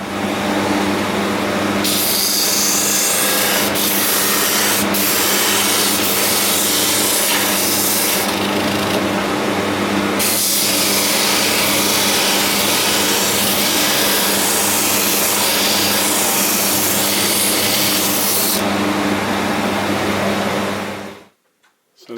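A biscuit jointer runs continuously with dust extraction attached, giving a loud, steady high-pitched whine and rushing airflow. Its tone shifts slightly as the blade bites into old drawer-front wood, then cuts off abruptly at the end.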